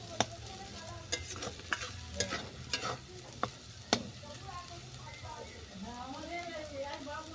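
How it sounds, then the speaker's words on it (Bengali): Washed puffed rice tossed and fried in a pan with chowmein ingredients, with a low sizzle and several sharp spatula knocks against the pan early on, then a voice talking over the frying. "এরপর সমস্ত উপকরণের সঙ্গে ধুয়ে রাখা মুড়িটা ভালো করে ভেজে নিচ্ছি"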